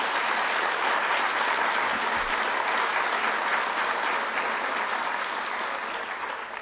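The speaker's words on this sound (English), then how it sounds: "Give him a round of applause, Danny Wegman." A large audience applauds Danny Wegman, REDC chairman, at a Genesee Community College event, dense sustained clapping filling the room at steady loudness before tapering slightly at the end.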